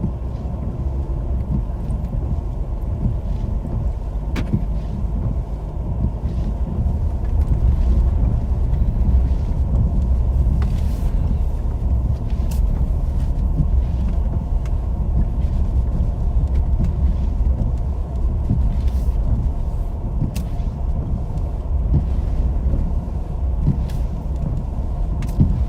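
Steady low engine rumble and road noise from a car inside the cabin, driving slowly along an untouched snowy road in Arkansas, continuous and even with occasional faint knocks.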